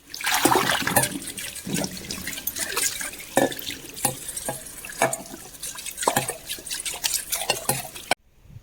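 Water splashing and running while a freshly cleaned brass pot is rinsed and scrubbed, with irregular sloshes and trickles close by, ending abruptly.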